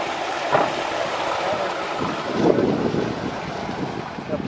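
Steady wind buffets the microphone in low rumbling gusts, with a couple of stronger blasts, and no one speaks.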